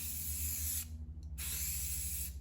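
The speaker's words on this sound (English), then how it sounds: "start spraying a little bit over here and then spray to the, off the edge" Spray finish hisses steadily from a spray can over a water-damaged surface, a bright continuous rush that stops briefly for a short pause, then resumes over a low background hum.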